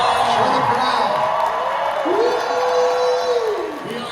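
A convention panel crowd in Toronto at Fan Expo Canada cheers, whoops and shouts continuously, a loud dense roar of many voices with rising yells, fading slightly at the end.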